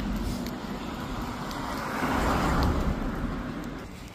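Steady road traffic of passing cars and heavier vehicles beside a walker, a continuous mid-distance rumble that swells as one vehicle draws closer and passes, then eases off.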